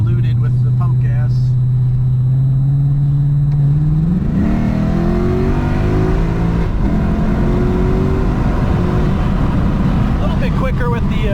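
A Lexus IS-F with its exhaust valve open and running on an E85 blend drones loudly and steadily, then climbs in a rising rev and holds a deep, continuous roar, with a voice faintly underneath.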